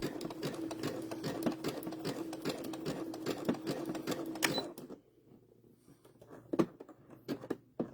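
Embroidery machine stitching at close range, a fast steady needle rhythm for about five seconds, then stopping, followed by a few scattered clicks and taps.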